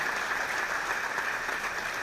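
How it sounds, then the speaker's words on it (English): Steady, dense audience applause for the mayor at an inauguration ceremony in Milwaukee, a continuous even wash of many hands clapping at moderate distance with no talk over it. "can we give the mayor another round of applause, please?"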